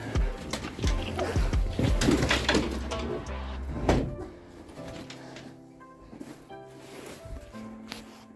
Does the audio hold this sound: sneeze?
no